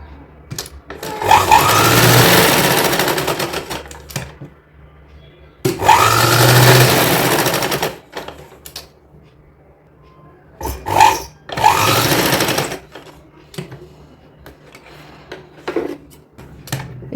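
Sewing machine stitching crepe and organza fabric for a small girl's designer outfit, running in a few bursts of about two seconds each, with short quieter gaps between runs.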